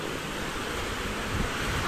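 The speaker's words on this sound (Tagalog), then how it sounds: "sobrang lakas ng hangin" Steady, heavy typhoon wind with rain roars across a farm in a broad wash of noise, with a brief gust swelling near the end.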